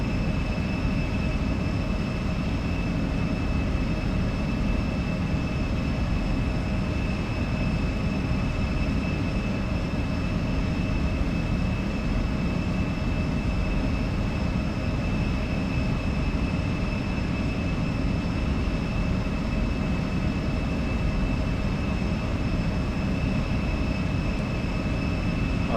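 Embraer E175 airliner climbing in the X-Plane flight simulator: a steady, loud engine drone and rumble holds unbroken throughout, with constant whining tones riding on top and no voices.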